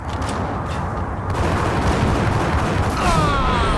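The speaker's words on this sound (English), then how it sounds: "Oh! It's a long way away to shoot with a shotgun." Shotgun fire in the Max Payne video game, set around a subway entrance, with dense overlapping blasts and booming gunfire filling the whole stretch, loud and continuous amid action sounds.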